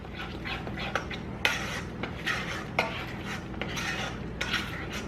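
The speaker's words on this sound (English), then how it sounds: "Just keep stirring." Scrambled eggs stirred in a pan on an electric stove, with repeated utensil scrapes and light clinks against the pan in an uneven rhythm over a faint sizzle, close and clear.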